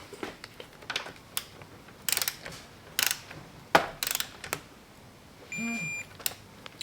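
Torque wrench clicking and ratcheting on the upper triple tree bolts of a Yamaha R7, set to 19 foot-pounds; a series of sharp mechanical clicks and short ratchet bursts, close and fairly loud, with a brief tonal beep near the end.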